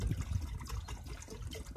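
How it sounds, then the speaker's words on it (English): Thin bleach is poured into a big beaker, a soft gurgling trickle of liquid close by, running steadily for a couple of seconds without talk. "A quantity of this bleach into the big beaker."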